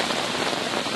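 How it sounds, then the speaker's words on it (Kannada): Heavy monsoon rain pours down steadily in the Western Ghats, a dense, loud, unbroken roar of drops with no voices. "ಪಶ್ಚಿಮ ಘಟ್ಟ ಭಾಗದಲ್ಲಿ ನಿರಂತರವಾಗಿ ಮಳೆ ಸುರಿತಾ ಇದೆ."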